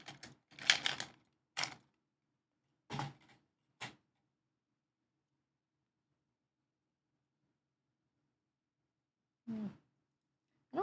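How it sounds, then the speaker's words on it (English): Keys clack on a mechanical keyboard, an ai03 Andromeda or KBDfans Daifuku D60 build under typing test, in a few short, quiet clusters of clicks separated by long silent gaps. "Doing a little bit of key testing now."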